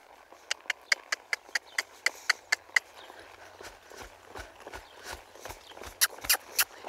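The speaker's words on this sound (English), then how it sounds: "I'm just going to ask him to go out there and lope again and be a little bit more aware of my rhythm." Horse loping in an arena, a rapid, regular run of sharp hoofbeats close by, fading briefly into softer, uneven thuds before more clear footfalls return.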